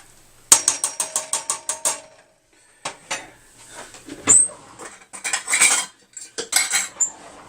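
A utensil stirs a pinch of salt into hot milk in a pot just moved off the heat for ricotta, making a quick run of bright metallic clinks, a pause, then more irregular scraping clatters up close.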